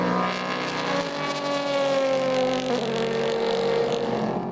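LMP2 prototype race cars battle for fourth place at the 2019 4 Hours of Silverstone, engines screaming loudly at high revs with pitch shifting as they pass and change gear, no voices over them.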